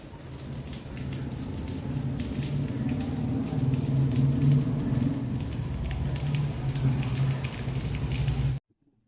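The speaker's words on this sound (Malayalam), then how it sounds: "മഴ എന്ന് പറഞ്ഞാൽ അത് തോരാതെ പെയ്യുന്ന മഴയാണ്" Heavy, continuous rain pours down in Chennai, a steady dense wash of noise that holds at an even loudness for about eight and a half seconds, then cuts off abruptly.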